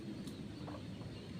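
A pet chicken clucks softly outdoors on farmland, a few short faint clucks over quiet background noise.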